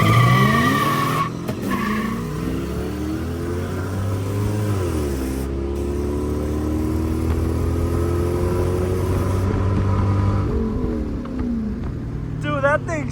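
Car in the Forza racing game spinning out, engine revving and sliding pitches with sustained tire squeal, loud and continuous, while people talk over it.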